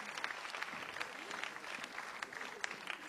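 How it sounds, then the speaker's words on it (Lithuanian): Audience at a televised dance competition applauding passionately after a couple's performance: sustained, dense clapping from many hands, steady and fairly distant, with a few sharper claps standing out and faint voices mixed in. "gerbėjų, kurie taip aistringai plojo, net atsistoja"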